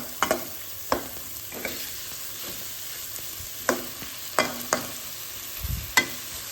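Bitter greens being stirred as they fry in a pan, a low steady sizzle with periodic crisp spatula scrapes and knocks spaced about a second apart, fairly quiet and without speech.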